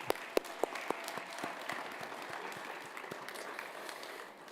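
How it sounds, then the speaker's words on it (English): An audience at a university address gives a dense, continuous round of applause, with a few sharp close claps at the start, before it thins out at the end. "Can we have another round of applause for Nathan and Adam?"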